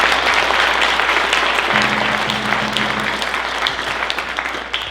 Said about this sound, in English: let's give these dancers here a big round of applause